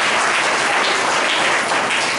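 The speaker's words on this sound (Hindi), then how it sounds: "इस के लिए ताली बजाएंगे" Loud, dense applause from a church congregation fills the space steadily from start to end, with no voices over it.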